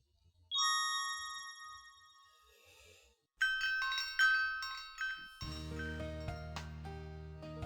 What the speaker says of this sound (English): heard the clinking and clamoring of very unique door chimes as we stepped across the threshold